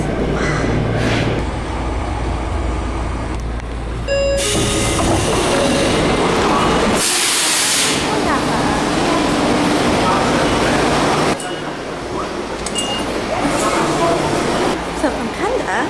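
A rail ride out of Kanda station in Tokyo on a commuter train: a continuous loud rumble of the moving car with clattering wheels, bursts of hiss and shifts in tone as it travels, with voices faintly mixed in.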